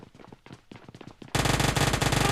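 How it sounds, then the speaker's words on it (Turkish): Uzi submachine gun from PUBG Mobile Lite fires a loud, sustained burst that breaks in abruptly after quiet, rapid muffled thumps and dense, continuous crackling fire to the end. "Dur size Uzi ile küçük sürprizler yapacağım."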